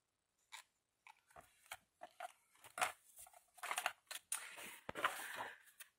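Small scissors snip in a quick irregular series of close, crisp cuts, with light paper rustling and no talking.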